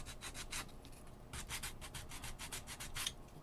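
Steady rhythmic sanding of a 3D printed part, repeated close rubbing strokes in quick bursts with no voices.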